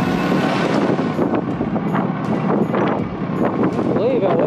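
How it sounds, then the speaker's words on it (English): Strong gusting wind buffets the microphone outdoors with a constant loud roar, while people talk faintly underneath. "How windy it is out here."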